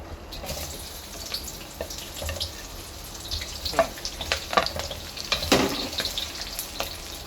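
Chopped onion fries in cooking oil in a hot wok, giving a steady close sizzle with a few light clinks and scrapes scattered through it.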